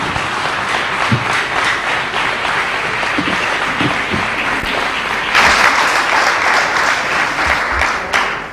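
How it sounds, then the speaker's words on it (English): Sustained applause from a conference audience at a transgender health event, a dense even wash of clapping that swells louder about halfway through and carries on to the end. "please have big round of applause"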